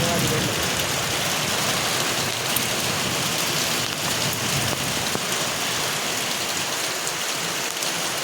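Steady rain pours down in a dense, even hiss with scattered drops pattering on surfaces, continuous and fairly close throughout.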